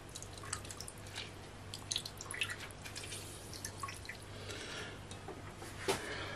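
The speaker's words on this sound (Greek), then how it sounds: "χυμό από μισό λεμόνι" Lemon juice from half a lemon dripping into a sugar, water and glucose syrup, heard as small, scattered wet drips and drops close by, quiet over a steady low hum.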